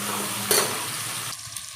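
Chicken and onions frying in a pan with garam masala, a close, bright sizzle under brief stirring scrapes that softens toward the end.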